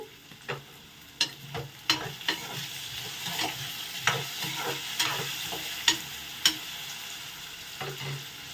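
Potatoes fry in a pan with turmeric, giving a steady low sizzle broken by sharp, irregular clicks and scrapes of a spatula stirring against the pan, close up with no voices.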